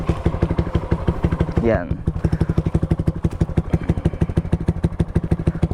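A motorcycle fitted with an Akrapovic exhaust, silencer removed but dB killer in place, idles with a rapid, even loping pulse and blips the throttle once early, close and loud; a voice speaks briefly at the start.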